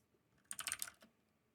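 A short, quiet burst of rapid keystrokes on a computer keyboard, a quick run of clicks lasting about half a second against near silence.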